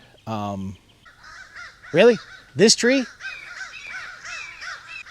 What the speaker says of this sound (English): It's crows fighting with a hawk.